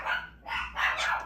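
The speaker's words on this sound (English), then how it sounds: "The neighbor's dog got in the backyard." The neighbour's brown dog, loose in a backyard, lets out a few short barks and yips in quick succession at moderate distance, with no talk over them.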